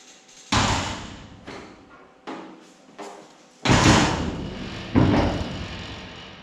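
A hand-built custom car body's door is opened and shut repeatedly, giving six distinct close thumps and latch clunks spaced about a second apart, each ringing briefly before the next.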